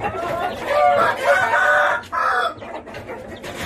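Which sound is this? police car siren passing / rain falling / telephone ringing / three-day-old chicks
three-day-old chicks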